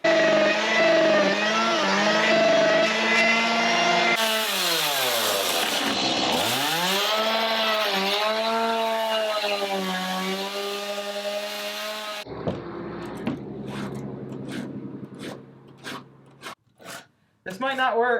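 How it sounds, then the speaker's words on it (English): A small chainsaw with a worn-out blade buzzes and revs loudly, its pitch rising and falling as it cuts wood, then sputters into uneven bursts and short sharp noises. "So I'm just gonna use the little chainsaw."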